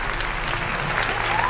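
Audience applause at a Hindi Bible quiz competition, a brief, even burst of clapping from a seated crowd.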